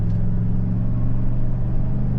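A 2025 Chevy Silverado ZR2 AEV Edition pickup with a 6.2 liter engine at wide open throttle on a highway, its steady loud low engine drone and cabin rumble running continuously without talk.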